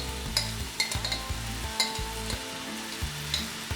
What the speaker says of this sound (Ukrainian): Закидаємо цибульку. Сковородка розігрілась.